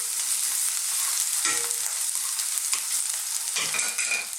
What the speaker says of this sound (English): We're going to follow that up with some garlic. About 2 to 1, the garlic and the ginger